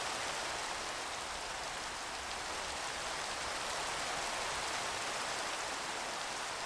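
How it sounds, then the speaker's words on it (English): Steady rain pours in a Minecraft world at night, a dense, even hiss of falling drops with no breaks or voices. "right now it's raining up the arse and it's also night"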